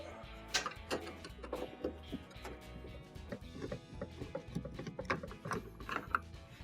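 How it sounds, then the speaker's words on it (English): Phillips screws being backed out of the control console on a GE washing machine, giving a faint run of small metallic clicks, ticks and ratcheting taps at close range with no talking. "we have multiple Phillips screws in these holes that'll have to be taken out in order to remove the console."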